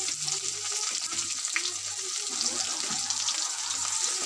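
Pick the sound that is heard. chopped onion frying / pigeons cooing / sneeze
chopped onion frying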